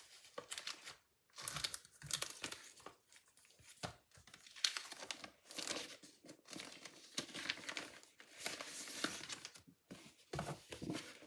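Regular unfoiled paper crinkling and rustling as it is unwrapped during an unboxing, steady close crumpling bursts with short pauses, no speech.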